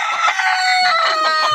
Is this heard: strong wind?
no